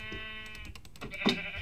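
A Minecraft sheep bleats in the video game, a short wavering cry rising near the end over a quiet background.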